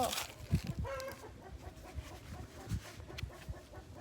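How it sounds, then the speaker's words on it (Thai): Chickens clucking and calling in a backyard garden, a series of short irregular clucks at close range over a rustling outdoor background with no voices. "ไก่เห็นเราตกใจอีกแล้ว"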